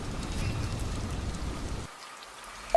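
Steady rain patters down for nearly two seconds, then drops away to a quiet room tone, with a single faint tap near the end.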